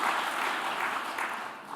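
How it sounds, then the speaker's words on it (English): Audience applause at the Nordic Women in Tech Awards ceremony in Iceland, a dense, steady wash of many hands clapping together that fades slightly toward the end. "Give applause to Nanna."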